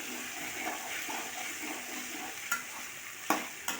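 Sliced okra fries in a pan as it is stirred now and then, a soft continuous sizzle with a few sharp utensil scrapes and clanks, quiet and close, with no one talking.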